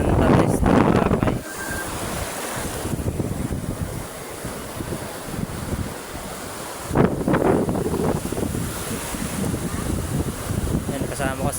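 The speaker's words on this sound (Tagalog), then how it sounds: "Lakas ng alon guys." Strong ocean waves at Boracay surge and crash in repeated heavy rushes, mixed with gusty wind buffeting the microphone, loud and close.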